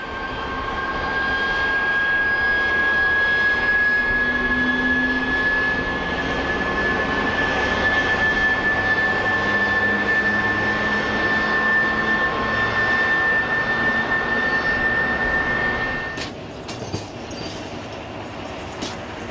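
A Russian diesel locomotive hauls a train bound for Berlin through the track yard at Leipzig Hauptbahnhof on non-electrified lines in the early 1990s; a steady loud rumble with a sustained whine, then clanks and clicks of wheels near the end.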